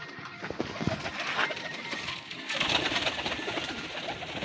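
Pigeons cooing nearby in a loft, soft repeated low coos rising and falling over a faint background hum, with no speech.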